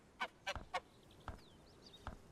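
Chickens in the video game Bellwright give several short, faint clucks in a brief irregular burst, then fall quiet before one last cluck, with no talk over them.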